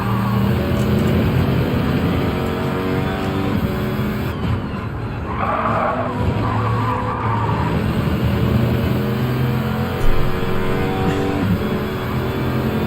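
A Bugatti race car in Gran Turismo 7 roars at steady high revs, with tyre squeal and skidding as it corners. The engine drone stays loud and continuous throughout.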